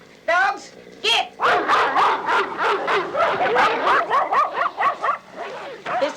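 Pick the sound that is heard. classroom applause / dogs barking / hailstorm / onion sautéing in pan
dogs barking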